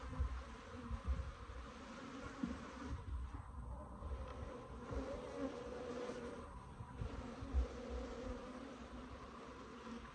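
Italian/Africanized hybrid Cordovan F2 honeybees hum around their backyard hive, a dense, steady buzzing that stays close and continuous throughout with light wind and no talk.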